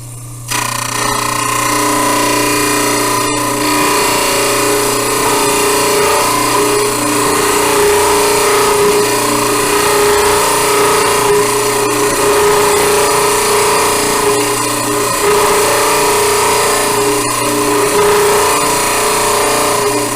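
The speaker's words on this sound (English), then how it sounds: "So I'm going to turn my trimmer on" A stone trimmer saw runs with its water feed on while fabricating stone bleach trays, giving a loud, continuous motor whine and hum with no pauses and no talking.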